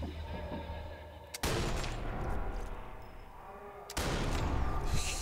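Enemy gunfire aimed at the player in the World War II shooter Sniper Elite 4, two sudden loud bursts a few seconds apart, each a sharp crack followed by a rolling sustained rattle, close and dominant.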